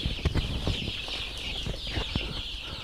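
Tiger chickens cluck softly on a farm in a close, busy mix of short clucks and scratching. Occasional louder thumps break the steady background noise.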